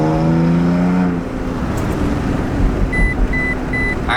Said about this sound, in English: you're going to hear it beeping